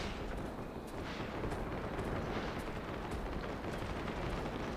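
Grenades burst in mid-air during a Jurassic dinosaur war video game, giving a steady, rumbling wash of explosions and distant blasts with crackling impacts throughout.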